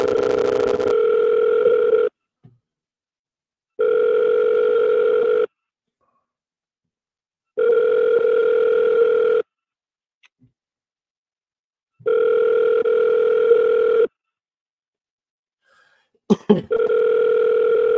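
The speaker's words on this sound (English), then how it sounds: "Let me give him a call" An outgoing phone call rings back in long, steady electronic tones separated by equal silent gaps, repeating five times, loud and close. Just before the last ring a brief click or handling noise sounds.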